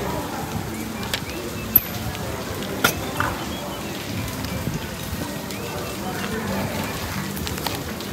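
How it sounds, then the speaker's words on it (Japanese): Heavy rain patters steadily on surfaces at a street food stall in Thailand, a dense close wash with occasional louder drips and clatters, with voices in the background. "なんで雨止まないとここから出られない ぞ。"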